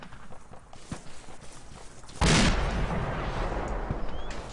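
Mortar shells landing in Arma 2: a sudden heavy blast booms out midway, its rumbling roar lingering and fading, preceded by distant muffled gunfire and thumps.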